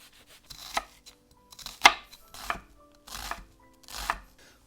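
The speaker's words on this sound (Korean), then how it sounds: "양파는 잘게 썰어 주겠습니다." Close knife strokes finely chopping an onion on a cutting board, about five distinct sharp chops spaced irregularly, with quiet gaps between them.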